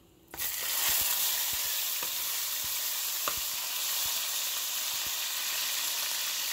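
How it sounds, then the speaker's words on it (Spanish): Pork meets oil and caramelized white sugar in a pot and erupts into a loud, steady sizzle with a few faint ticks and pops throughout. "Ya está quemándose, dorándose el azúcar. Vamos a poner la carne."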